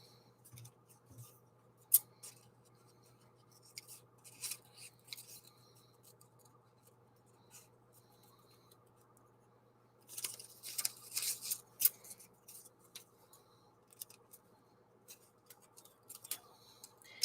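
Paper being cut with scissors, close and quiet: scattered snips and crisp cutting strokes, with a denser run of snipping in the middle, over a faint steady hum.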